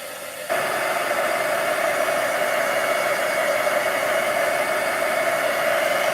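A handheld heat drying tool starts abruptly and blows steadily on an inked watercolor shaker card, a loud continuous whooshing hum that holds unchanged after switching on.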